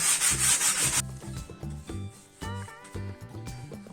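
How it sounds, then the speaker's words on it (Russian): Sandpaper is rubbed over a lightly scorched wooden board in a few quick, rough back-and-forth strokes. The first second is loud and harsh, then the rubbing turns quieter and more irregular, close up. "еще чуть-чуть наждачкой"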